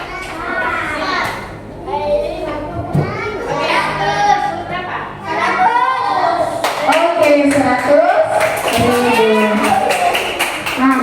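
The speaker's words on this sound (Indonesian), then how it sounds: "Oke, berikan aplaus untuk perwakilan kelompok" Classroom of children applauding a group representative, mixed with lively kids' chatter and voices; the clapping is steady and close, running throughout under the children's talk.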